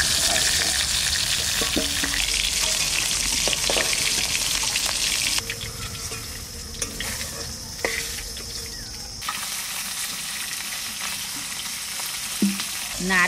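Pieces of shol (snakehead) fish fry in hot oil with a loud, dense, crackling sizzle. Partway through it drops to a quieter, steadier fizz, with occasional spatters and utensil taps.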